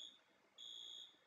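Fire alarm in the Roblox ER:LC video game, faint high electronic tone sounding briefly, pausing, then sustaining for about half a second, with no voices.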